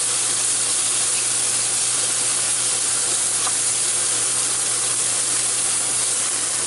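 Mushrooms sauteing in butter in a pan over medium-high heat give a continuous, even sizzle and hiss that holds steady throughout with no talking.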